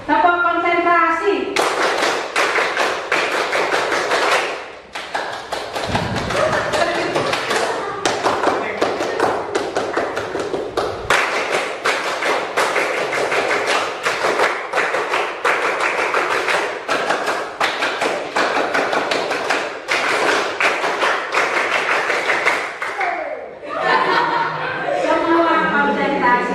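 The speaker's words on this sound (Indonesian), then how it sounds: "Nah, tepuk konsentrasi." A classroom joins in the tepuk konsentrasi clapping game, with sharp claps in quick patterned bursts and short pauses between rounds. A teacher's voice and some laughter come in at the start and end.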